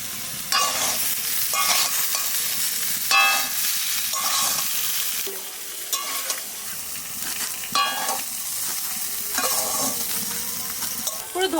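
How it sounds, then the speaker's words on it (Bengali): Boiled potatoes sizzle in hot oil for jeera aloo while a spoon stirs and scrapes the pan in repeated strokes, the frying hiss loud and close throughout. "এবার সেদ্ধ করা আলুটা দিয়ে দেবো।"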